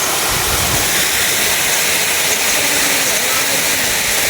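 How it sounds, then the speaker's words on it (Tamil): A small waterfall in the Kolli hills pouring into a pool, a loud, steady broadband rush of falling water filling the scene without pause. "இதுதான் அந்த சின்ன அருவி பார்த்தீங்கன்னா ஊற்றுற இடம்"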